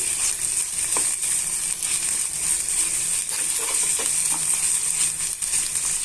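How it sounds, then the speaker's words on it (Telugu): Onions with ginger garlic paste fry in a pan for an egg curry, giving a steady, close, broadband sizzle throughout, with faint stirring clicks and no talking. "ఇవన్నీ కూడా బాగా మిక్స్ చేసుకొని వేయించేసుకోవాలి"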